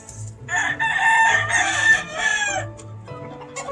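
A pure WT game cock crows at close range on a Georgia game fowl farm, one long loud crow with a trailing end, then softer fowl sounds and clucks.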